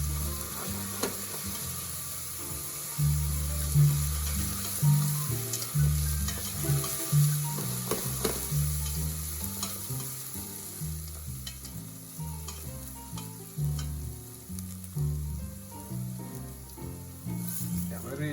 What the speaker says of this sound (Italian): facciamo rosolare. Per qualche minuto.